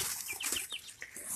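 Leghorn hens clucking softly in a backyard flock, a few short faint clucks and chirps scattered over a quiet breathy background.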